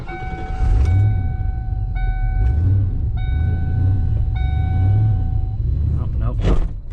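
A Gambler car in poor, improperly repaired condition is driven in first gear. A close, steady whine cuts in and out repeatedly over a low rumbling drive, ending in a short burst of louder noise.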